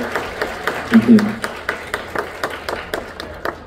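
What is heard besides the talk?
audience applause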